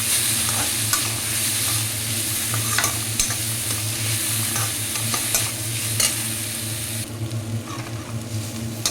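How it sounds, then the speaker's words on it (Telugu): Chopped tomato pieces sizzling in a pan for a ragi soup, a loud, steady close hiss broken by repeated spoon scrapes and stirring clatter. "కట్ చేసి పెట్టుకున్న టమాటో ముక్కలు ఇవంతా కాసేపు బాగా మగ్గనిస్తాలండి"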